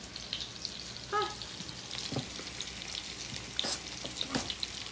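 Onions and bacon fry in a pan for a poêlée with apples. The sizzle is a soft, steady crackle, broken by a few light clinks and stirring sounds.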